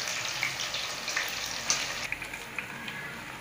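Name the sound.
brinjal (eggplant) pieces frying in oil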